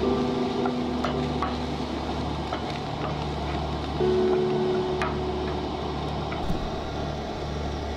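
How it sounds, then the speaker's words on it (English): Chopped onions and garlic sizzle in a hot pan under occasional stirring, with soft clicks and scrapes over a steady frying hiss. The sound is moderately close and continuous, with no talking. "And now we'll add our garlic."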